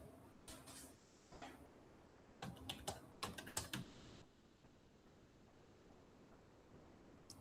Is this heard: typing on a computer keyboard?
yes